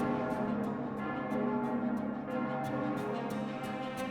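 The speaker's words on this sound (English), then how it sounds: "I can hear the bells." Bells chime in a video game over a dense, sustained music backdrop, struck in a steady repeating rhythm with a loud, full tone.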